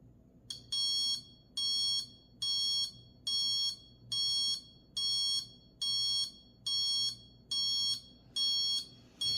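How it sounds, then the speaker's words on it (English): An Amazon Basics small digital oval alarm clock beeping in regular bursts, nine or so rapid pulsed tones repeating at an even pace, clear and piercing with no one talking. "when the alarm turns on, which should be shortly, we can listen to what the alarm sounds like"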